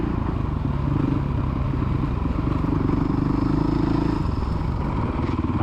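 A child's motocross bike engine revs steadily on a dirt track, a buzzing, sustained drone with slight rise and fall, fairly close, with some clatter and no talk.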